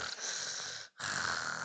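A voice imitates snoring with a long nasal rasping inhale, a brief pause, then another drawn-out snore, close and alone.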